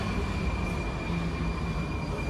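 A Prague metro train rumbles steadily underground, a dense continuous roar with a faint high tone running through it, close and unbroken.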